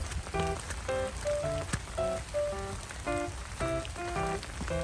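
Steady, fairly faint rain patters on a surface throughout, with short tonal sounds breaking in irregularly over the hiss.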